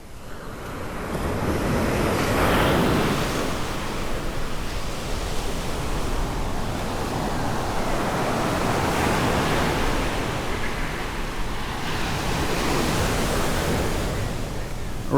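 Ocean waves wash onto a beach at Lo De Marcos in steady, continuous surf, loud and close, with breaking swells rising and falling every few seconds and no talk.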